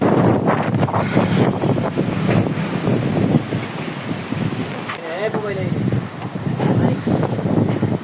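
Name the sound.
strong wind blowing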